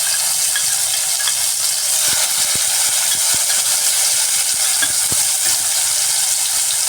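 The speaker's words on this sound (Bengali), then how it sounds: "কড়াই ওই তেলের মধ্যেই আমি দিয়ে দিচ্ছি পেস্ট করে রাখা পেঁয়াজ" Onion paste frying in hot oil in a wok, a steady loud sizzle throughout with a few sharp scraping ticks from stirring in the middle.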